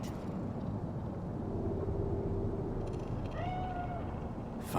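A cat in Cyberpunk 2077's Night City meows over a low, steady street and traffic hum, with two distinct drawn-out cries, a longer one midway and a shorter, rising one near the end.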